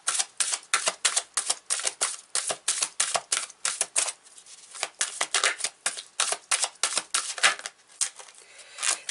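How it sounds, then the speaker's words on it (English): Long tarot cards are shuffled in quick bursts, a close, crisp riffling and flicking that repeats in uneven rhythmic clusters with brief pauses between handfuls. "They're difficult to shuffle because they're longer cards"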